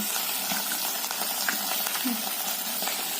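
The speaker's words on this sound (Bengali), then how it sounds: "দেখো মাছের মাথাটা ভাজা হচ্ছে" The head of a three-kilogram katla fish fries in hot oil, giving a steady, dense sizzle and crackle that runs unbroken at close range.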